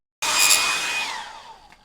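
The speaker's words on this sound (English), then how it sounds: "I'm going to get my trusty hairdryer and make sure this is absolutely dry" A hair dryer switches on with a loud, airy rush and a whining motor tone that drops in pitch as it winds down after a second or so.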